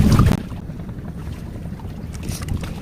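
Sea waves slosh around a small fishing boat at a bagan fishing platform off Marunda, with gusty wind buffeting the microphone and a heavy thump at the start.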